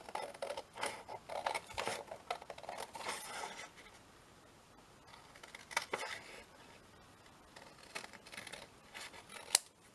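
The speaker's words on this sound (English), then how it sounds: "what you want to do is just cut round the whole thing, just like this" Scissors cutting round the edge of a folded paper booklet, with soft crisp snips and rustles coming in irregular bursts, close and fairly quiet, with no voices.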